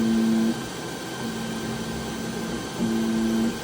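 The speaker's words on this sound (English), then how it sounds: "So as you can hear, the printer is not making a lot of noise." An Anycubic Kobra S1 3D printer calibrating and heating: a low, steady mechanical hum with a faint high whine, swelling slightly at the start and end, fairly quiet with no voices.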